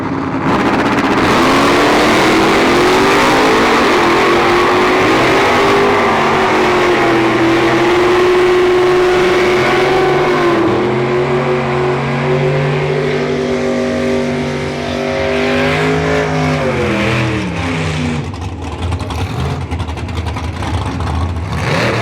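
Drag racing cars at Santa Pod roar loudly and steadily at close range, engine pitch climbing and shifting through gear changes before fading out near the end, with no talking.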